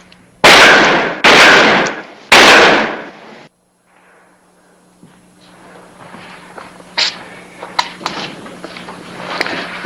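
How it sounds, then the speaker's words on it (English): Three sharp, loud gunshots ring out in quick succession as bullets strike a steel sheet, each with a ringing decay, followed by quieter scattered clinks and shuffling. "you've wasted your bullets and dented up my steel"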